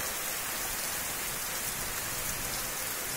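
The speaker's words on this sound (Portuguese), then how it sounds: "Chuva boa nesse momento aqui, nesse dia 17 de abril de 2023." Steady heavy rain falls in Itaporanga in Brazil's Northeast, a dense continuous hiss of drops on surfaces with no voices.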